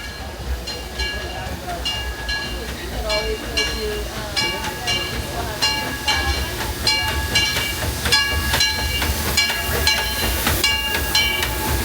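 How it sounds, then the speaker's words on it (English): The Disneyland Railroad amusement park train rolls along with a continuous rumble and hiss while regular clicking beats mark the wheels passing over the rail joints. There is no speech. "All aboard the Disneyland Railroad"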